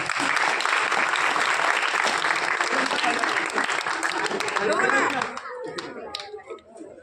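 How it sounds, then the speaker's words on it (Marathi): An audience at a school event gives loud, sustained applause with dense clapping for about five seconds, fading into scattered claps and crowd murmur. "मंगलमूर्ती सिद्धनाथाच्या नावानं टाळ्या"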